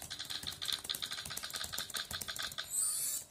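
Rapid keystrokes on a laptop keyboard typing into Notepad, a dense run of close clicks with uneven rhythm and no pauses, followed near the end by a brief brighter hiss.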